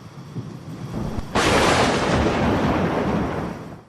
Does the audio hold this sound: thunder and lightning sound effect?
yes